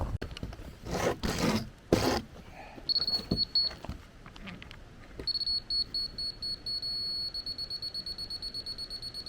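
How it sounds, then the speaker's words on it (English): Laser level receiver used for masonry and rim joist work, giving short irregular beeps at first, then a long steady tone, then a fast regular train of rapid beeps, close and clear with faint handling scrapes. "So rapid beeps, it's too high. Solid beep, it's bang on where we want to be."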